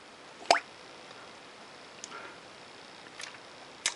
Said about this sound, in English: that lovely plopping or plunging sound, which tells us that everything looks fine